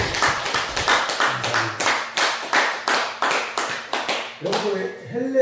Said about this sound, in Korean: 우리 성현들께 박수 한번 보내주시기 바랍니다.